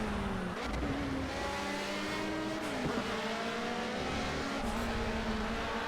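A race car engine in Project CARS revs and accelerates, a loud steady drone that climbs in pitch with shifts, close and continuous with some tire noise and no talk.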